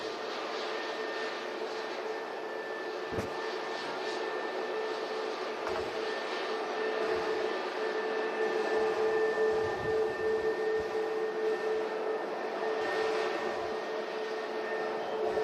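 A new, two-year-old airliner bound for Istanbul departs Manchester Airport from runway 05 left, its jet engines a steady, loud roar that swells slightly midway and holds throughout, with no talking.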